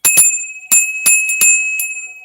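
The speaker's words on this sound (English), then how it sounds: "I'm going to ring that bell when it's time for us to close the portal" Meditation bell struck several times in quick succession, each bright metallic ring with a steady sustained tone that lingers between strikes, close and clear with no talk.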